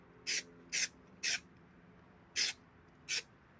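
Five short, evenly spaced hissing bursts of spray adhesive being applied to a headliner in a 1969 Camaro, each about a third of a second long with quiet pauses between, close and fairly soft.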